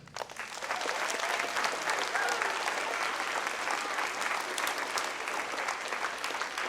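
Sustained audience applause greets the Stanley Cup's official keeper from the Hockey Hall of Fame at a Horace Mann school assembly, a dense, steady clapping crowd lasting throughout.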